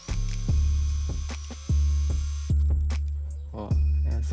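A Facilita Pro 4432 sewing machine stitches fabric in short, rhythmic bursts of motor hum and needle thumps, close by and moderately loud, with brief pauses between runs.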